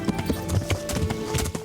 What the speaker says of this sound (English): the sprinting with a horse is faster in-game time.